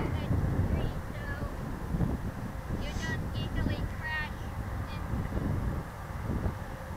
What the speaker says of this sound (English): Wind's still picking up though.